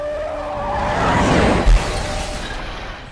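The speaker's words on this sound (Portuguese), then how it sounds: "uma plataforma desaba na rua, fazendo um caminhão desviar e acertar os 3 em cheio" A truck swerves in a film scene, its tires skidding in a loud, rising screech that peaks mid-clip with a heavy low thump, then fades out.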